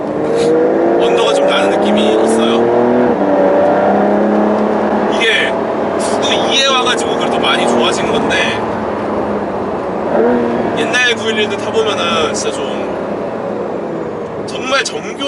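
A Porsche 991 GT2 RS with a rear-mounted 480-horsepower engine accelerates hard from mid speed, its loud engine note rising through the gears with sharp shifts, heard from inside the car while someone talks throughout.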